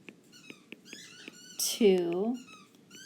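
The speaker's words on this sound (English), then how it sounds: "Can you hear my dogs playing with a squeaking toy?" Dogs play with a squeaking rubber toy, giving a run of short, sharp squeaks close by, then a longer whining squeal, while a person talks over them.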